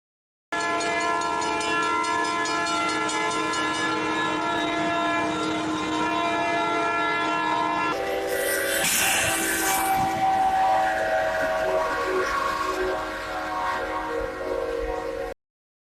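A massive freight train at a crossing in the middle of the night sounds a long, loud, steady horn blast over rumbling wheels and rail noise, then shifts to a louder broadband roar and clatter as it plows through.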